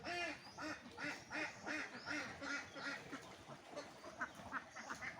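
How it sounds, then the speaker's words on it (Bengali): A large flock of farm ducks, a couple of hundred birds kept for eggs, quacks continuously in water, with overlapping calls in a steady, busy chorus and no talking. "এই দেখেন সব হাঁস"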